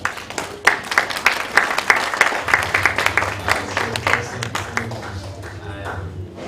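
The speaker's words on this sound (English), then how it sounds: "Please give them a round of applause." A round of applause from the audience at an evening launch event for presented work, scattered sharp claps building into steady clapping at close range, with a low hum and some murmuring beneath.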